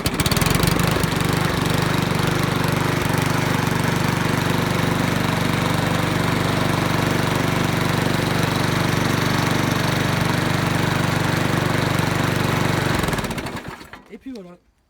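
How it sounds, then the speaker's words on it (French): A four-stroke garden power tool engine drones loudly and steadily at close range, then is switched off near the end and winds down quickly into quiet. "Bon, il n'y a pas starter parce que c'est un 4 temps, donc ça démarre direct."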